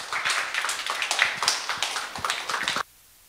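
Audience at a coffee club event applauds to welcome a speaker, dense steady clapping from a room of people for nearly three seconds before cutting off to silence.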